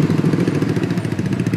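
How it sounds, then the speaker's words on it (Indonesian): Several motorcycles pass close by through a narrow residential alley in Palabuhanratu, their engines rumbling loudly and steadily with a clattering, uneven pulse throughout. "banyak motor-motor lewat gang sini kan"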